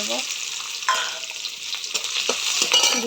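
Garlic sizzles and crackles in a hot pan of oil while being stirred, with scraping utensil strokes breaking through the steady frying hiss, as it is cooked for a Malabar spinach (pui shak) dish with hilsa fish head.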